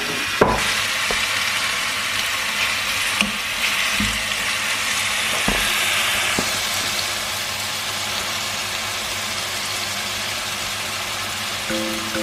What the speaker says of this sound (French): je vais mettre ma viande marinée